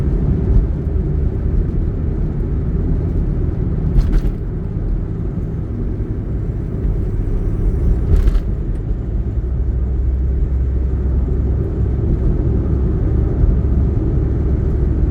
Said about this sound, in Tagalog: Hindi na ako sanay magpatakbo ng kotse na ganito kababa sa expressway.